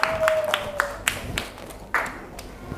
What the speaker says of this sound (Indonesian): Kelompok 3. Beri tepuk tangan.